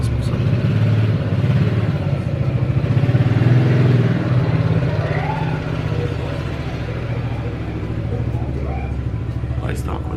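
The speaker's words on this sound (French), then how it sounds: "Ouais, c'était un quad." A quad bike's small engine drones and rumbles loudly nearby, rising slightly then holding steady as it passes, with a voice talking over it.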